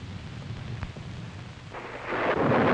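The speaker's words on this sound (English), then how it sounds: "You probably noticed there's a bad storm going on." Thunder rumbles through a heavy storm, a low steady roll with a sharp crack near the middle, then swelling into a louder, brighter wash of rain and thunder toward the end; no voices.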